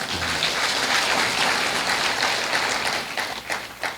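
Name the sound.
congregation clapping for the Lord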